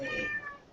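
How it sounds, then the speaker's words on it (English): A cat yowls insistently from down on the floor, one drawn-out, strained meow that is loud at first and then tapers off. No one speaks over it. "Yeah, I have one cat here. The one yelling is down on the floor."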